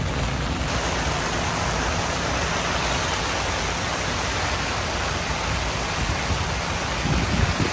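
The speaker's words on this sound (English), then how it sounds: "we'll try to make the best of it and wait this rain out" Heavy rain pours down on an Area 51 motocross track ahead of a NightCross race, making a steady, dense hiss that runs unbroken from start to finish with no voices.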